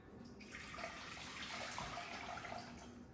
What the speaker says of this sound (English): Let's go ahead and add the water to our pan.